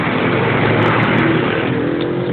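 Inside a jeep on the ride home, the engine roars steadily and loudly under load with no pauses, accompanied by a dense rumble and road noise throughout.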